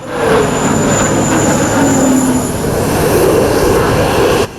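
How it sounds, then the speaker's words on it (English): An F-16 Desert Falcon jet roars loudly over the Dubai Airshow, a steady, close engine rumble with a shifting whine that holds for several seconds before dropping off abruptly. "the F-16E Desert Falcon was the most advanced version of this multi-purpose jet"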